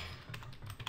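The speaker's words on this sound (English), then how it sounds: "you're gonna start typing faster" Keys tap on a computer keyboard in quick, faint, evenly spaced strokes, about five presses in a second with no voices.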